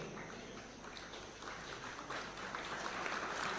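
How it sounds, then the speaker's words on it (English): A State House tax day ceremony audience applauds award recipients, a continuous wash of clapping that builds slightly toward the end. "A round of applause kindly, ladies and gentlemen, as they receive their awards"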